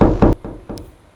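Knocking on a door in the horror video game Poppy Playtime Chapter 3: a few heavy, muffled thuds in quick succession, loud and close, then fading.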